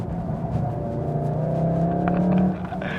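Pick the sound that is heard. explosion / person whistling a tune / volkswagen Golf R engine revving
volkswagen Golf R engine revving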